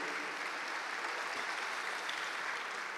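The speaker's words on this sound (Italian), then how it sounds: "Facciamo un applauso più forte per Papa Francesco" Steady, even applause from a large audience at a music show fills a hall as a dense, continuous wash of clapping. It is moderately quiet and has no breaks or voices over it.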